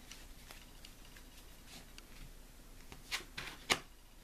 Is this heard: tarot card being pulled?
yes